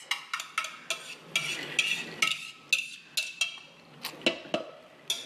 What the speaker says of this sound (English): I'm going to take the wet ingredients and combine it into the dry ingredients and make a little dough